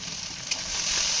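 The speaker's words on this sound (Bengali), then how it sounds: "ভালো করে মশলাটাকে ফ্রাই করে নিতে হবে" Spices with turmeric and salt sizzling in hot oil in a pan for banana stem curry, a soft continuous crackling fry with a brief stir scrape, close but fairly quiet.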